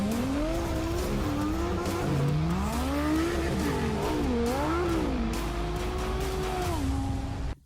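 A Lamborghini Huracan Sterrato rally-spec supercar revs hard and close, its engine pitch rising and falling through gear changes with tire squeal, loud and continuous before cutting off abruptly.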